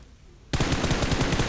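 Automatic weapon fire in the mobile battle-royale game PUBG Mobile: after a short quiet moment, a loud, rapid continuous burst of shots runs to the end.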